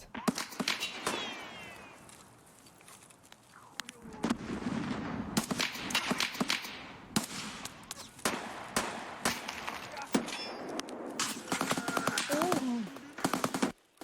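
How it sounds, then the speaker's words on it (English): Rapid bursts of video game gunfire crackle through a competitive solo match, with dense volleys and scattered single shots over about fourteen seconds, fairly loud and close, with only faint background voice chatter. "I didn't even see where those bullets were coming in from"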